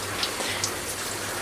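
Rain-style water system in an aquarium fish store in Singapore, dripping like a raining waterfall: a steady, close hiss of falling water with a few brighter drip splashes scattered through.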